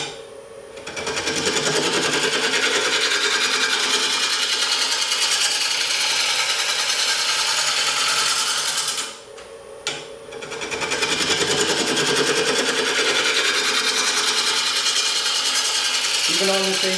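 A wood lathe turns a large 18-inch walnut bowl while a tool cuts with a loud, continuous rattling hiss. The sound breaks off briefly partway through, then resumes and holds steady.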